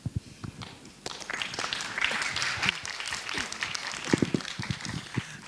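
Audience at an entrepreneurship conference summit in Malaysia applauds the panelists after a panel session, a steady wash of clapping building after a second and sustained across the room, with a few louder claps and scattered shuffling.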